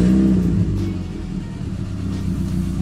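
Renault Sandero RS engine with a nearly free-flowing exhaust, parked warm, rumbles loud and steady at close range, with a low droning tone that swells slightly as it is revved, with no talking.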